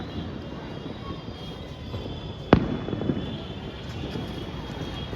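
A single sharp firecracker explodes outdoors in Surat on a Sunday evening, a loud crack with a brief ringing tail and a smaller pop after it, set against a steady distant rumble.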